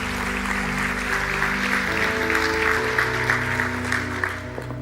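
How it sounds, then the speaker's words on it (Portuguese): Church congregation applauding during a worship service, dense sustained clapping over held organ or keyboard chords that shift midway, fairly loud and continuous. "Dê o melhor aplauso que você pode dar ao Senhor."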